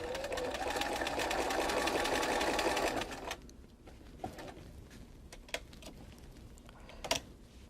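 An old-style Bernina sewing machine fitted with a ruler foot stitches in a fast, steady, close whir for about three seconds, then stops, leaving a few faint clicks and taps.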